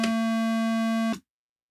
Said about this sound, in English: Very steady, a little boring. One oscillator, no modulation.